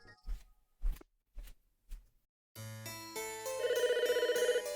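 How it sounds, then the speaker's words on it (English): A telephone rings with a bright electronic chime in the Famicom Detective Club video game, starting after a few soft footstep-like thuds and then sounding steadily and fairly loudly over game music tones. "the phone is ringing."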